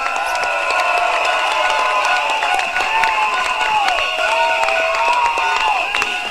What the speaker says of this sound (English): another round of applause for Grace Fu.